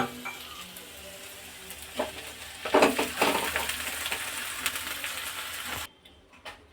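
Boiled soybeans, chickpeas and peas go into a hot frying pan and are stirred. Close sizzling and scraping swell in loud bursts near the middle, then settle into quieter stirring.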